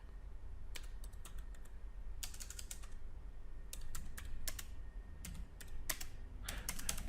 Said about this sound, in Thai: ก็พิมพ์ชื่อโปรเจกต์ว่า cat 2d 101